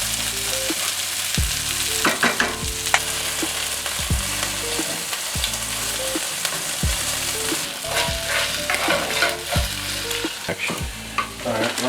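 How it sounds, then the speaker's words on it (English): Rice sizzles steadily in a hot pan after chicken, a loud continuous frying hiss broken by a regular rhythm of spatula scrapes and stirs, with no voices. "I'm going to put this rice in, let that warm through."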